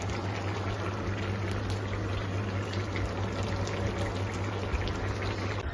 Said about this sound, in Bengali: আর এখানে হয়েছে মাছের ঝোল, বাটা মাছের ঝোল ফুটছে।